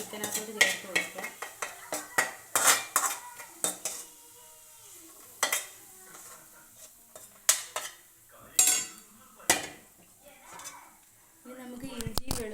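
Coconut pieces are stirred into chicken curry in a pan, with a spoon scraping and clinking against the pan in irregular close knocks and a faint sizzle between them.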